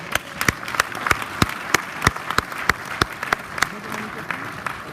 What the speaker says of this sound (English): please give a big round of applause to our moderator for today